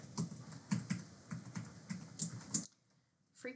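Keys on a computer keyboard being typed in a quick run of close, crisp clicks, then a pause and a couple more taps.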